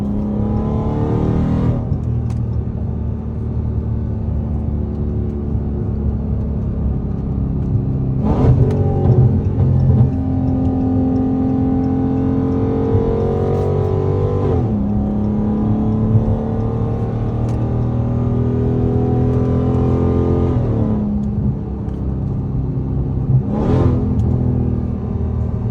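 Dodge Charger Hellcat under hard acceleration, a loud sustained engine roar with rising supercharger whine sweeping up through repeated gear pulls, brief dips at each shift, heard from inside the car with no talking.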